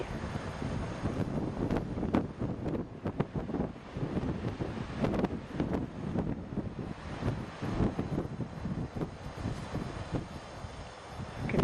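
Strong wind buffets the microphone in gusty, rumbling bursts during a snowy evening in Island Park, with continuous low roaring and irregular thumps throughout.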